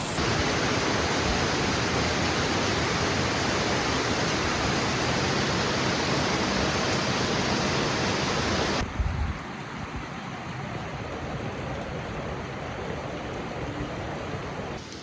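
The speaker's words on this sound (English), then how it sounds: "The rain is absolutely pouring." Heavy rain pours onto metal roofing over a market in China as a dense, roaring wash of noise that stays loud and unbroken for the whole stretch, then drops a little softer partway through, with no talking.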